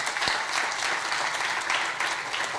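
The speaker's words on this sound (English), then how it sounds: "Can I give a warm round of applause for all of those individuals?" A crowd applauds at a Black History Month opening event, a full, even wash of clapping from many people that holds steady from start to finish.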